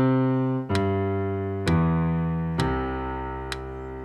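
Piano arpeggios running over two octaves: four clear note onsets spaced roughly a second apart, each ringing and sustaining into the next at a moderate, even pace, close and alone with no talking.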